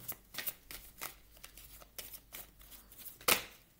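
Tarot cards riffle and slap together in quick bursts, followed by a sharper snap as a single psychic tarot card is drawn, close and fairly quiet with no voices.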